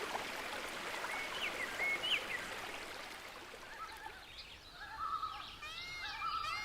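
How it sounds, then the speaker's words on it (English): A steady broadband rush of the flowing Banas River in India fills the scene, with birds calling and chirping faintly over it, especially toward the end. "our senses are somewhat cooled by the sounds of the Banas River"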